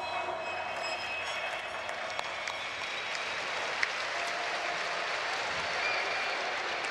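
A crowd at a Counter-Strike esports match applauds with a dense, steady wash of clapping and cheering that holds at an even level throughout.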